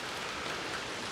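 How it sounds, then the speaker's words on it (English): Steady rain falls outdoors beside a 1999 Ford V10 4X4 Super Duty truck, making a dense, even hiss with no talk. "And now it's raining."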